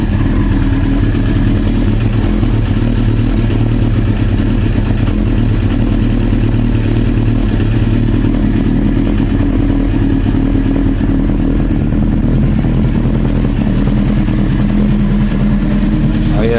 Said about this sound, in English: Let's see if it starts backfiring or anything.